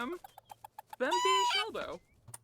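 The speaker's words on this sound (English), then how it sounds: "Oh, you get to talk to your chickens." Chickens in The Sims video game cluck in a series of short, rhythmic clucks, then one louder, drawn-out squawking call, with faint game music underneath.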